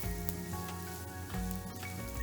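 One chopped medium onion fries in a tablespoon of olive oil in a frying pan for Turkish stuffed eggplants, giving a continuous close sizzle at moderate volume with faint stirring.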